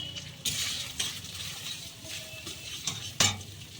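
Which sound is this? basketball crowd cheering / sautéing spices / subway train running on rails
sautéing spices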